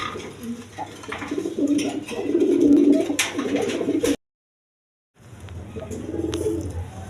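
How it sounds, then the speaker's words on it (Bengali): American fantail pigeons, a chocolate-and-white pair among colored pigeons for sale, coo in steady low rolling phrases, fairly close and loud, with a short silent gap midway before the cooing resumes. "এইখানে একটা এক পেয়ার আমেরিকান ফ্যান্টাল লক্ষা কবুতর আছে দেখেন"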